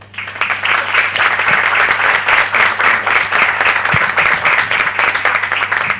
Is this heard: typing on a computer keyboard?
no